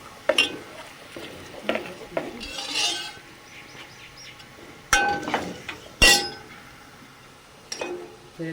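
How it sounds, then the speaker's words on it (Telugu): A spoon stirs a paste of green chillies, tomatoes, onions and palak with ground spices in a pan for palak paneer, making intermittent scrapes and sharp metallic clinks against the pan over a quiet background. "వేసి బాగా కలబెట్టేస్తున్నాం."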